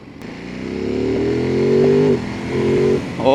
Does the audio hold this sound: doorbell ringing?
no